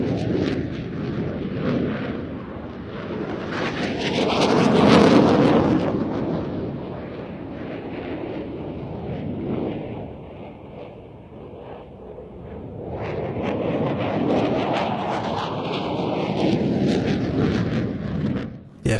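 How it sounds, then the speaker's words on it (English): F-16 and JF-17 fighter jets flying airshow manoeuvres under clear skies, a loud continuous jet roar that swells, fades slightly mid-pass and builds again, rumbling and distant-to-near with no talking. "The F-16 completing that Cuban 8, and both aircraft heading out to the left-hand side for the next manoeuvre."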